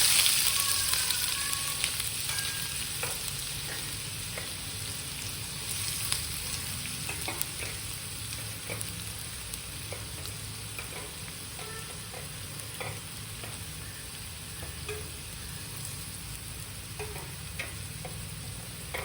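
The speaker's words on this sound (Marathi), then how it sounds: "आणि आता ना हा कांदा मी एकदम छान मऊ असा होईपर्यंत परतून घेणार आहे" Onion sautéing in oil with mustard seeds and cumin in a pan for a chickpea curry. A continuous close, crackling sizzle with occasional light pops and stirring scrapes, and no voices.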